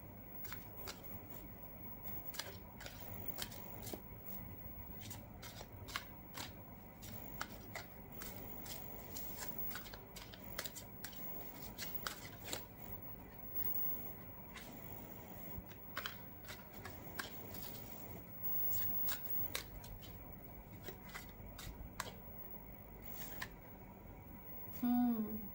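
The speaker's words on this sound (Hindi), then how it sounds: "एक कार्ड पहले मैं और लेती हूँ" Tarot cards shuffled and drawn in a reading, a long run of soft rapid riffling flutters and light taps recurring throughout at low level, with a woman's speech faintly present.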